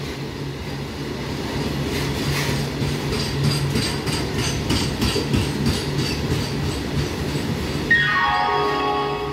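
A goods train rumbles steadily through Hooghly railway station in India at close range, with a rhythmic clickety-clack of wheels over rail joints and metallic rattling, ending with a rising mechanical whine.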